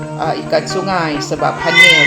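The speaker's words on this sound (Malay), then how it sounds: "Itu kucing saya guys, dia nak makan petang ini." A domestic cat meows several times in a kitchen while someone talks over it, the cries close and mixed in with her speech during preparation of a river-fish dish.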